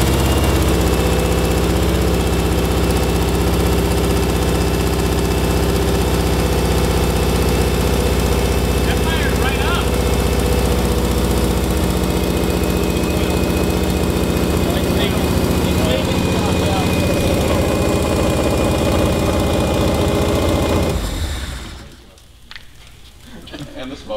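A faulty Subaru EJ205 engine with a cracked block runs roughly, its loud, close, uneven idle droning steadily for about twenty seconds before cutting off into near quiet.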